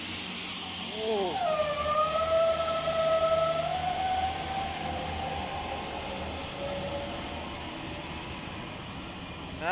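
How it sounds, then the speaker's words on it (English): A Great Western Railway class 802 diesel train pulls out of Oxford station, its engine droning under a rising, squealing whine that slides down in pitch as it departs, fairly distant and steady. "That is one powerful diesel engine."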